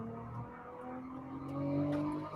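A Ferrari V6 e-turbo car engine drones while driving, a steady tonal hum heard from inside whose pitch climbs gently as the revs build toward the end.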